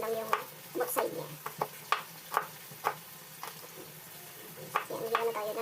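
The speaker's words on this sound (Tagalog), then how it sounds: "Habang inaantay natin ma-prito, hiwa na tayo ng panggisa." Oil sizzles steadily in a pan as food fries golden brown, while sharp knocks and clatters of utensils punctuate it, and a voice speaks nearby.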